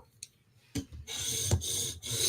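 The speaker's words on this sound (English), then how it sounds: "Now we're taking the burr off." A blade is rubbed across a sharpening stone to remove the burr, giving a few short, close scraping strokes with brief pauses between them, quiet and alone.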